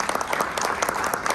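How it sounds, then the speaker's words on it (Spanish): A brief burst of continuous audience applause at a conference panel discussion, even and moderately loud throughout. "Nuevamente un aplauso para los maestros doctores."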